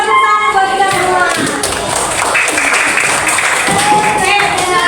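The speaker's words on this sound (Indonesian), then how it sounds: "terima kasih tepuk tangan buat kita semua" Classroom applause from students during a lesson on food chains, dense clapping mixed with children's voices and chatter, loud and close throughout.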